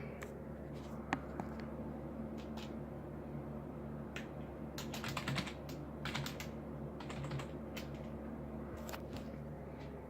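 A password is typed on a computer keyboard of an air-cooled gaming PC. Soft, irregular key clicks come in short bursts over a low steady fan hum, fairly close, and no one speaks.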